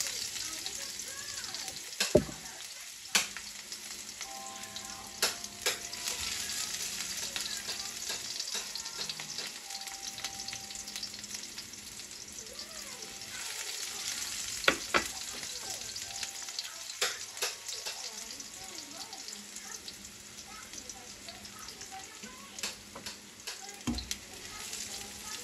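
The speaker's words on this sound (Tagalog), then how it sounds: "Nagigisa na ako." Garlic and onion sauté in a pan with a steady, soft sizzle and frying crackle, punctuated by occasional stirring clinks and scrapes, heard close up.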